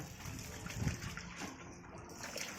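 Water trickles and drips into a basin during hand washing of laundry, a soft continuous splashing heard faintly in the background.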